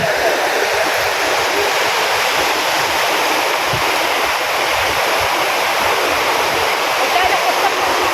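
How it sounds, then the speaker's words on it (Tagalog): A strong water current rushes close by in a steady, loud, unbroken roar like a stream or small waterfall. It fills the whole clip with no pauses. "Malakas yung agos"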